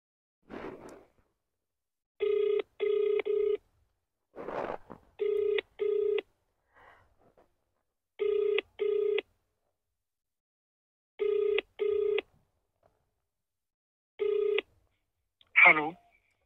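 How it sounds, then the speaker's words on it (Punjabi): A telephone call being placed: short bursts of dialing tones followed by a repeating ringback pattern of paired rings, clear and close, with brief rustling noises between and a short sound at the end. "ਸਰ ਨੂੰ ਫੋਨ ਲਾ ਕੇ ਦੇਖਦੀ ਹਾਂ।"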